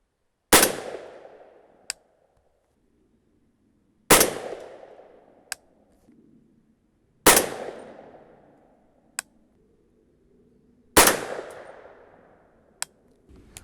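Four sharp rifle shots from 300 Blackout 190gr Hornady Sub-X subsonic loads, evenly spaced a few seconds apart at an outdoor range, each followed by a brief decay and a faint distant impact crack.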